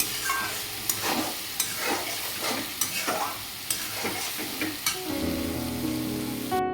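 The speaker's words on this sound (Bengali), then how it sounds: "মশলা কষিয়ে অল্প জলে কষিয়ে ভালো করে তেল ছেড়ে দিলে" Spice masala for a rohu fish curry frying in oil, with a spatula scraping the pan in a regular rhythm of sharp knocks over a continuous moderate sizzle, ending in a brief tonal hum.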